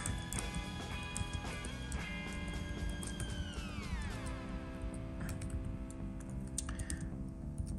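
Quick, light clicks of typing on a computer keyboard, close and fairly soft, running steadily over a faint background hum.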